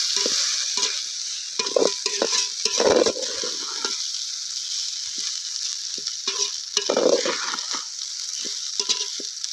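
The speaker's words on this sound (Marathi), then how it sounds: "हलवून घ्यायचं" A pot of country chicken biryani is stirred up close: a continuous hiss of steam and frying under a string of uneven scraping, clinking spoon strokes, with louder bursts now and then.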